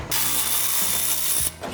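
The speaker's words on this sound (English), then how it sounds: "I'm gonna pop this fan off with its ridiculously long bolts." Continuous rapid ratcheting from a ratchet wrench spinning out long fan bolts on a 1965 Ford Mustang, two loud close bursts split by a short pause, with no talking.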